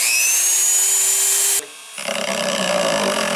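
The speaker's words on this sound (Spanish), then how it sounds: "Después, usando un motor tool," A rotary tool traces a drawing onto an acrylic sheet for an LED sign, a loud high-pitched whine that cuts out abruptly, then returns as a rougher, grinding buzz.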